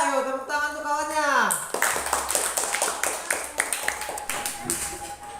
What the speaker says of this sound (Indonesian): Ayo tepuk tangan untuk kawannya.